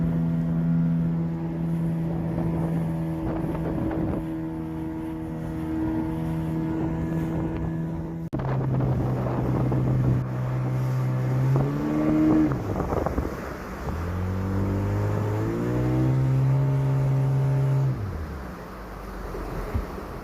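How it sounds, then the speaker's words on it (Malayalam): A speedboat racing through high sea waves in strong wind off Kovalam beach, its engine droning loud and near, then revving and shifting pitch repeatedly as it bounces over swells, with wind buffeting throughout. "മഴ പെയ്യുന്നതിന് മുമ്പ് കരയിലെത്താനുള്ള വ്യഗ്രതയിലാണ് ബോട്ട് ഓടിക്കുന്നത്."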